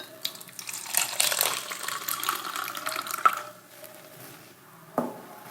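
Tap water runs from a faucet in a steady, splashing stream, close and moderately loud, easing off toward the end with a brief clatter near the finish.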